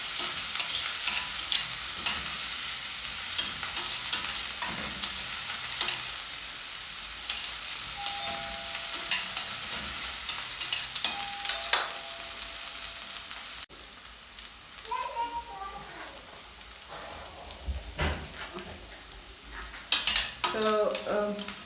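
Onion and spring onion frying in oil in a pan, a steady broadband sizzle throughout with occasional stirring scrapes and utensil clinks, louder in the first half and slightly quieter after a brief cut.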